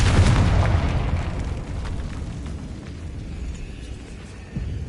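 A Confringo spell explodes in Hogwarts Legacy, a loud booming blast at the start that rumbles and fades into a low, lingering roar.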